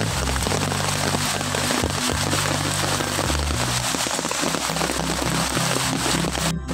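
Heavy rain pours down steadily on a rainy day at a muddy crab-hunting spot, a dense, continuous hiss filling the scene. A low, droning background hum runs underneath it.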